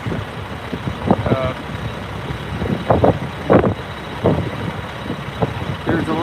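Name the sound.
trucks and tankers at SpaceX Starbase main gate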